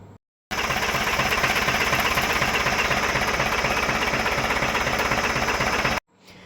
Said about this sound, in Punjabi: ਅੱਜ ਆਪਾਂ ਇਹ ਟਰੈਕਟਰ ਵਾਲਾ ਪੱਖਾ ਲਿਆਂਦਾ ਜਿੰਨਾ ਵੀ ਆ ਹੁਣ ਪਾਣੀ ਆਪਾਂ ਇਹ ਪੱਖੇ ਨਾਲ ਚੱਕਾਂਗੇ